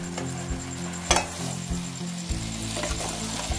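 Mango pickle with added vinegar stirred in a pot, a close sizzling hiss with a few soft scraping and clinking strokes in irregular rhythm, no voices.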